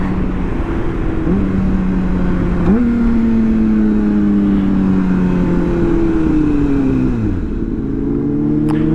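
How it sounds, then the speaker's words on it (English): BMW S1000 motorcycle, a 2021 model, accelerating hard with quick shifter upshifts, its loud close engine note climbing in pitch and dropping sharply at each quick gear change. "Ooh, that quick shifter though."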